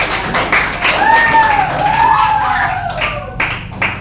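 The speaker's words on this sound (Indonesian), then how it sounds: "Boleh tepuk tangannya kepada apa?" Students in a classroom clap after a group presentation. The applause is lively, with high whoops or cheers sweeping over it midway before it tapers off into scattered claps.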